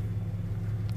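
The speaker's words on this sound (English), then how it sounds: "But you can hear my truck just started up right now." A GMC truck engine, a Sierra/Tahoe/Silverado type, runs steadily just after starting, giving a continuous low rumble at an even level throughout.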